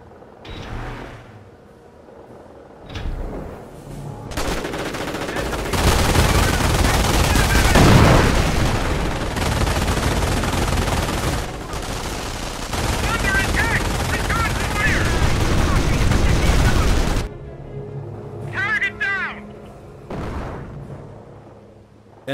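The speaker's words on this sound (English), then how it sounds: "Airdrop some SD-2 butterfly bombs on the bank." SD-2 butterfly bombs airdropped in Company of Heroes on the Oosterbeek map burst as a long, loud, crackling barrage of rapid small blasts lasting about ten seconds, with brief game voice lines around it.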